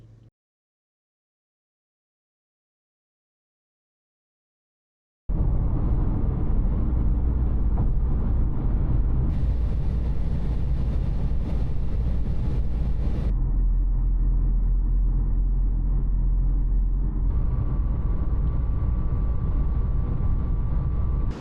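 Steady in-car road drive noise on a long drive toward Serra da Estrela, Portugal, a continuous loud low rumble of engine and tyres that starts after five seconds of silence and holds with shifting tone.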